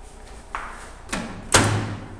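Door of a Brastemp BMS 27-litre microwave oven being opened, heard as a few dull thumps and clicks with a final louder thud and brief hum, close and without talk.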